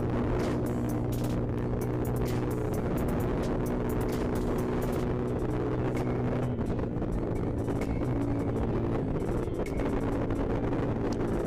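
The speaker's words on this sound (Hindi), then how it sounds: "तो आज हम फुल मोड बाइक चलाने वाले हैं, तो बस थोड़ी सी आप राइड इन्जॉय करें" A Suzuki cafe racer motorcycle rides along a road, its engine producing a steady droning hum mixed with heavy wind buffeting on the microphone, continuous and loud throughout.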